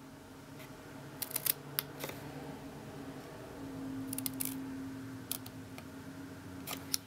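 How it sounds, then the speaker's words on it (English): Scissors snipping paper tabs on a festive box bag treat container, a scattering of short sharp cuts in quick clusters, close and fairly quiet with no talking. "So I'll just cut, and we're creating these little tabs on the side here"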